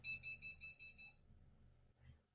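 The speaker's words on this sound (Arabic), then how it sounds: "كده بتديك انذار إن القهوة خلاص فارت." A faint electronic beeping alarm from a coffee machine signalling Egyptian coffee boiling over pulses rapidly for about a second, then stops, leaving a low hum and a soft click.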